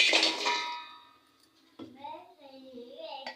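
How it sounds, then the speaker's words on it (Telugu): A steel vessel is set down on a kitchen stove with a bright metallic clang that rings out and fades, followed by someone talking close by. "స్టవ్ వెలిగించుకొని గిన్నె పెట్టుకోవాలండి స్టీల్ పాత్ర పెట్టుకున్నాను"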